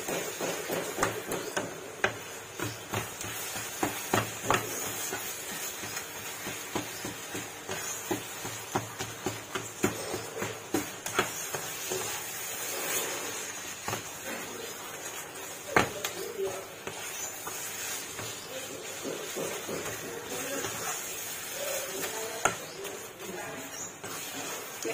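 Chicken bones are stir-fried in a wok with chili curry paste, as sharp irregular knocks and taps of a utensil against the pan ring out over a constant sizzle, near and moderately loud.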